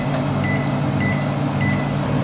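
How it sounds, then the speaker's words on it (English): An IFB microwave oven gives three short electronic beeps at even intervals while its timer is set for baking a chocolate cake mix, over a constant low hum. "Now set the timer"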